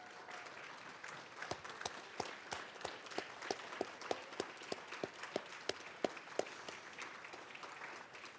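Audience applause at an annual institute celebration: steady, fairly even clapping with crisp repeated hand claps, moderately loud and sustained, with no one speaking over it.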